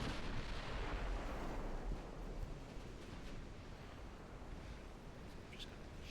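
Warship guns firing HE shells in the Ultimate Admiral Dreadnoughts naval game, a heavy rumbling boom fading into a long, broad wash of distant roar.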